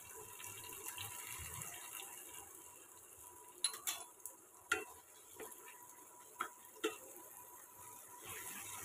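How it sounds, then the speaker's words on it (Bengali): Vegetables with chopped green chillies stirred in a pan, a low simmering sizzle with a few sharp spatula scrapes and clinks in the middle, quiet and close. "ভালো করে নেড়ে নেব।"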